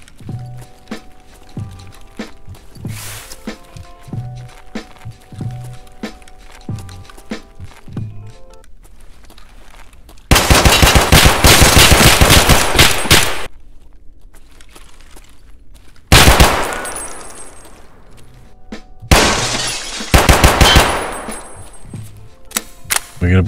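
Escape from Tarkov gunfire from a PPSh-style submachine gun set to single fire, loud bursts of rapid sharp shots in three separate stretches, with quieter musical and ambient game sound between them.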